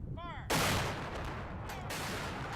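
A 19-cannon salute fired at a governor's inaugural ceremony: a loud, close blast bursts out and rolls on with a long reverberant echo, followed by a second boom about a second and a half later.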